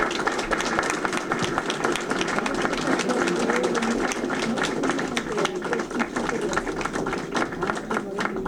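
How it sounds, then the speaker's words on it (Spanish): Dense, sustained applause from a seated audience honoring author Elena Poniatowska at a Chamber of Deputies library event, steady and full throughout with many overlapping claps. "Les pido un aplauso para Elena"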